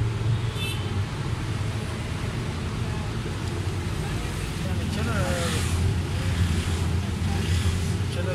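A three-cylinder Suzuki Cultus car engine runs steadily with a misfire and a faulty throttle body, a continuous low, uneven rumble heard up close under a wash of wind-like noise.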